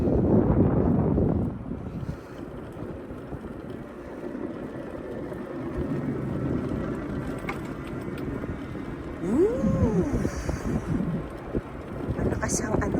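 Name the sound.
strong wind blowing outdoors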